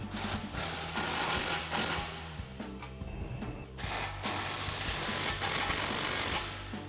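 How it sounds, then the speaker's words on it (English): Impact wrench with a 15 mm socket tightens 3-inch exhaust clamps ahead of the muffler on a RAM 1500, a continuous loud close-up hammering rattle that runs through the whole stretch without pause. "now we're gonna tighten our 2 3-inch clamps before our muffler. So the same thing, impact and 15mm socket"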